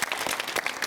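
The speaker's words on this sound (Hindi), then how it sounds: "पहले इन दोनों के लिए एक बार जोरदार तालियां" Studio audience at a televised debate on digital payments claps loudly and steadily for a brief moment.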